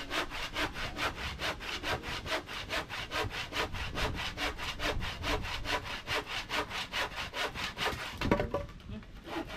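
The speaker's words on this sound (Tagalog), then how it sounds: "Walang hanggang lagare!" A hand saw cuts through wood with steady, rhythmic back-and-forth strokes, close and fairly loud, running evenly before a brief pause at the end.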